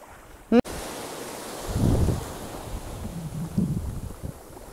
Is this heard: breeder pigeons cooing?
no